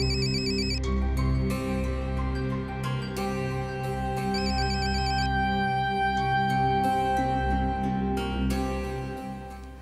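A telephone rings with an incoming call in a Pakistani TV program, a steady electronic ringtone with repeating tonal bursts over continuous musical tones, loud and sustained throughout without talk.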